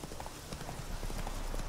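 Hooves of a horse ridden in The Witcher 3 clip-clop in a steady rhythmic gait, close and fairly loud over a rumbling outdoor game ambience.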